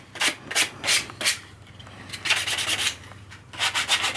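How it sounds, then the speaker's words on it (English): A sanding belt rubs back and forth over a rough edge in short bursts, four quick strokes then a longer steady pass and a final flurry, close and clear with no voices. "This is actually a sanding belt that I'm using here that's just perfect for this job."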